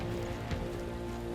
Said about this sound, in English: I'm surprised you're all out here in the pissing rain.